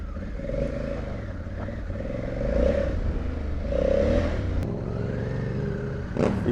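A motorcycle is test ridden in first gear on a street in a Brazilian favela, its engine droning and revving steadily at close range, swelling louder in a couple of spots, with a brief sharp clatter near the end.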